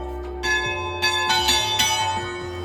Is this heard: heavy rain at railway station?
no